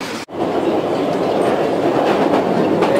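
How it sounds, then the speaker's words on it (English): Steady, loud rumble of a train carriage in motion with rail clatter, heard from inside after a brief dropout near the start; no talk over it. "We are on the train."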